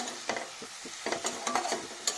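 Hot water poured onto frying masala sputters and sizzles in the pan, with close irregular bursts of spitting and stirring over a low steady hiss, no voices.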